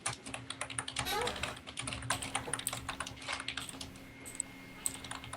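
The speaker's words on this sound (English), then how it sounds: "Furious typing." Rapid, frenzied typing on a computer keyboard during a board game night, dense clattering keystrokes running steadily throughout, fairly close and moderately loud with faint background voices.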